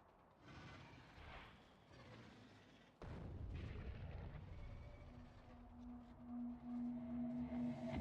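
A nuclear weapon explodes in a video game, a deep low boom that hits suddenly partway through and then rumbles on at a steady level with a faint tonal hum, with no talk.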